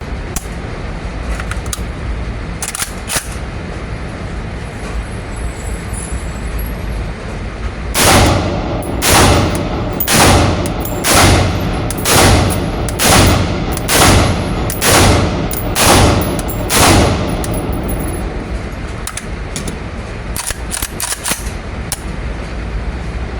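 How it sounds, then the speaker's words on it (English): Suppressed shots from a PSA KRINK Soviet-style rifle, about ten muffled, evenly spaced reports with a sharp crack on each, fired outdoors in a steady rhythm, loud and fairly close, with no speech. "show some footage shooting it with the suppressor real quick"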